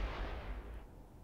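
A low, booming explosion in the space-building game Space Engineers rolls out from the start and decays over about a second, deep and heavy with no voices.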